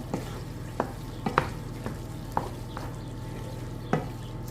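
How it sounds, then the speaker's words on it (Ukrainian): Meat is stirred in a frying pan with its lid lifted. Steady sizzling runs throughout, with about eight sharp scraping and clinking stirs at irregular intervals, close up and with no voices. "Так, піднімаю кришку, промішую м'ясо."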